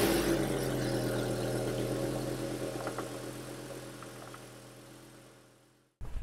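A gas Class A RV motorhome engine runs at a steady idle while the steering wheel is turned, its low hum gradually fading and dropping out near the end before a brief restart of sound.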